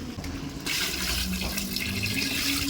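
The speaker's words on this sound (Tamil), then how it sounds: "இப்போ வந்து தண்ணி ஊற்றிடலாம்." Water poured into a pot of simmering gravy while cooking a Ramzan Eid meal: a steady splashing, gushing pour that starts abruptly partway through and continues loud and close to the end.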